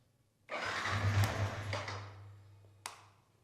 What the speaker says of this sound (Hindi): जैसे ही इंजन स्टार्ट होने को होगा मैं किल स्विच लगा दूंगा तो इंजन बंद हो जाएगा